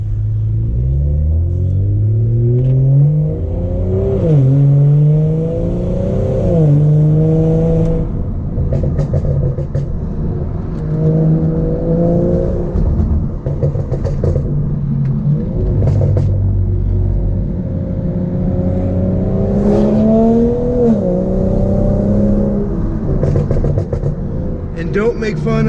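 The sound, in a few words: car accelerating hard on canyon road, traction control off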